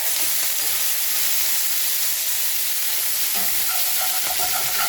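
Steak sizzles loudly in a hot pan, a steady dense frying hiss with occasional crackles and a faint scrape near the end, no voices.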